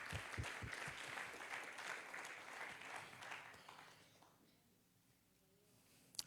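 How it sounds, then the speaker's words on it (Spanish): A church congregation applauding the Lord, with dense, quiet clapping that carries for several seconds, fades out near the end, and then gives way to a few faint knocks. "Dale fuerte el aplauso al Señor."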